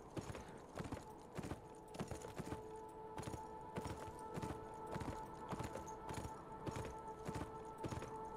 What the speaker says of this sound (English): Go on, horsey, move faster.